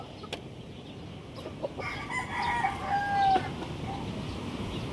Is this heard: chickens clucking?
yes